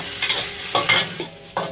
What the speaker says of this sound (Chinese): 咁我哋咧就白鑊炒一炒佢嘅